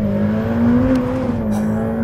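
A Ferrari F8 Tributo 2020 with its 710bhp V8 pulls hard on the road, a loud, sustained engine tone rising slightly in pitch, heard close and on its own.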